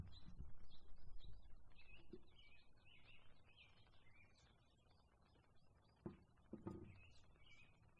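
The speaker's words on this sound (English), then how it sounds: "hopefully you can hear the birds chirping and singing," Birds chirp and sing repeatedly outdoors in the rain, small calls scattered throughout, faint and distant, with a few soft taps and knocks near the end.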